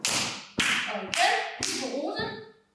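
Four sharp hand claps land overhead during a children's dance, spaced roughly half a second apart, close and crisp, with soft tapping and shuffling around them.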